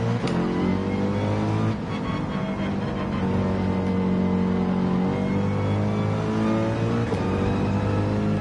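A race car engine in Gran Turismo 7 revs and accelerates steadily and loudly, its pitch climbing through several gear changes, with no voices over it.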